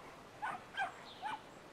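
Short dog barks and yips from a video game dog, three brief quiet bursts spaced apart with near-silence between them.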